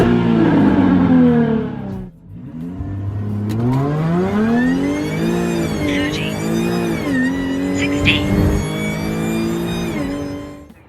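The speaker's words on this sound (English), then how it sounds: "So the supercharger makes this awesome noise as well." A supercharged Jaguar F-Type V6 S revving hard close by: a loud roar climbing and falling in pitch through repeated throttle blips, with a brief dip after the first surge and a whine riding on top.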